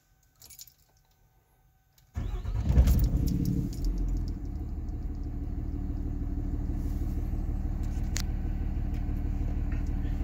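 A hot common rail diesel engine with a Banshee VGT controller cranks and fires after a quiet moment with a brief rattle, then settles into a loud, steady, low idle rumble close by.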